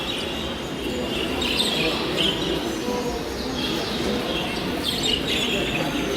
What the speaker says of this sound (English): These are zebra finches.